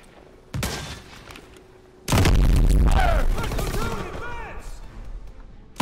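Machine gun fire in Call of Duty WW2 erupts in a loud, dense burst after a single earlier shot, followed by lingering battle noise and debris.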